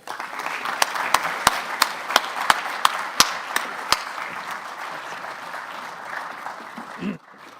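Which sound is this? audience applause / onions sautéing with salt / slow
audience applause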